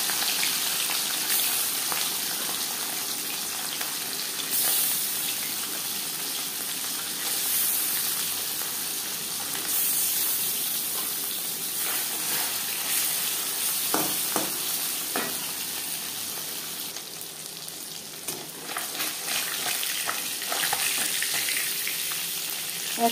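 Marinated fish frying in hot refined oil, a continuous soft sizzle and crackle close by with occasional sharper pops and spatters, no voices.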